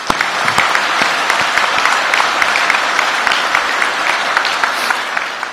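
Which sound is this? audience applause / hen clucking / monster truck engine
audience applause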